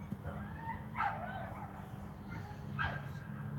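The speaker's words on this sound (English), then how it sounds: "The hell they doing with that dog over there?" A dog barks a couple of times somewhere off to the side, its yips and bow-wows fairly faint beneath a steady background murmur.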